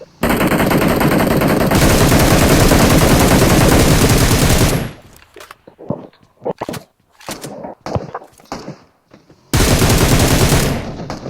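Rapid automatic gunfire in PUBG Mobile, a dense continuous burst of shots for several seconds, then scattered single shots and short bursts, before another sustained stream of fire at the end.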